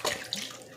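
Liquid is poured into a crockpot while making garlic parmesan chicken with pasta, a short splashing gush near the pot that settles into a softer trickle.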